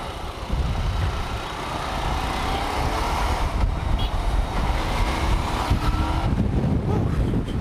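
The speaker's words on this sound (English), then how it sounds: "Let me just get out of this traffic." Motorcycle riding through busy road traffic, with a steady loud broadband roar of engine, wind and passing vehicles throughout, no talk.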